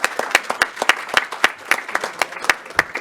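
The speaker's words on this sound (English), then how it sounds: "So please join me in a round of applause for all our speakers and moderators." An audience at a policy dialogue on Taiwan applauds its speakers and moderators, a steady patter of many hands clapping close by for the full stretch with no voices over it.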